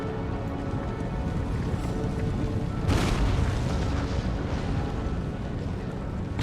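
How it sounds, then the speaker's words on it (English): Cannon artillery fire in Empire: Total War during a Great Britain campaign battle: a continuous rumble of booming volleys, with one sharper, louder blast near the middle. "Those cannons though, they sound awesome."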